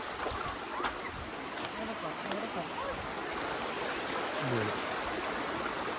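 Continuous rushing of a flowing stream at a Canadian campsite, steady and broadband, with faint bird chirps and distant sounds in the background.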